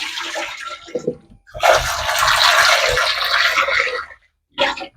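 Gooseberries are rinsed in water by hand, with splashing and pouring in a long continuous burst followed by a brief splash after a pause.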